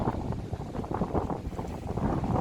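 Wind buffets a microphone with dull, uneven rumbling gusts, moderately loud and continuous, with no speech.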